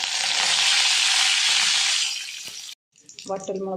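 Mustard seeds and dried chillies frying in hot coconut oil, giving a loud broadband sizzle for about two seconds that fades and cuts off, followed by brief clatter.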